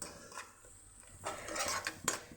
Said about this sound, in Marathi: 1 मिनिट आता आपण हे परतून घेऊया.